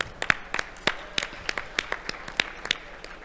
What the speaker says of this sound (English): a big round of applause for all the organizers